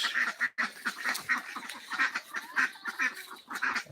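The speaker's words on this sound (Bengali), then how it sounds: "দেখেন হাঁস" Ducks quack in a steady stream of rapid, nasal calls, several birds overlapping at moderate distance, with no talking.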